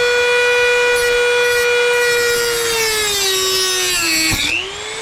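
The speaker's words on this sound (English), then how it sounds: "So we're gonna cut off 5 threads of the bolt using a Dremel." A Dremel rotary tool cutting through the threads of a steel bolt, a loud steady high-pitched whine with rich overtones that dips in pitch under load before cutting out abruptly, no talking.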